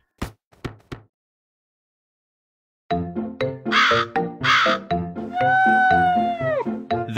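A cartoon crow caws in a children's story, with loud harsh drawn-out calls after a few brief clicks and a silent gap.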